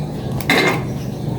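Kitchen clatter as three eggs go into a bowl, with a short burst of clinking and dish contact against a steady low hum, no talking.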